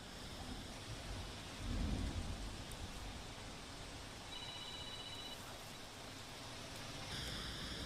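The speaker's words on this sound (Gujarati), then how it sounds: "મુંબઈમાં આજે વહેલી સવારથી મેઘરાજા મન મૂકીને વરસી રહ્યા છે।" Heavy monsoon rain pours steadily over Mumbai, a dense continuous hiss, with a low rumble of thunder swelling near the two-second mark and fading back under the downpour.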